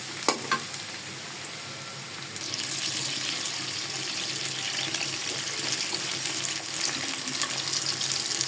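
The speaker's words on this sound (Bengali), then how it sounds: "এবার আমি পেঁয়াজটা দিয়ে দিই। এখানে আমি শিং মাছটা বসাচ্ছি।" Stinging catfish goes into a pan of frying onions: a quiet simmer suddenly swells into a loud, bright sizzle that holds steady close by, with no talking.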